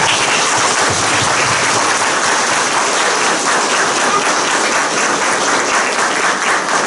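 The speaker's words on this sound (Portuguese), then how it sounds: "Também uma salva de palmas." Congregation applauding inside a church during a Catholic Mass, a dense, steady wash of many hands clapping that fills the whole clip, loud and close, with no talking.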